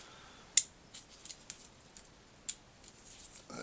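Small plastic overriders on a toy model car click back into place. Sharp, light clicks and taps come in a sparse, irregular sequence against a quiet background.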